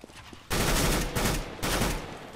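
Rapid automatic gunfire in the video game Counter-Strike: Global Offensive, two loud sustained bursts following a quiet moment, with a brief dip between them.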